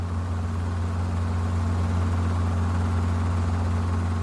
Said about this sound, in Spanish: un helicóptero se acerca y aterriza en el centro del campo